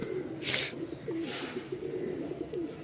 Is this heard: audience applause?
no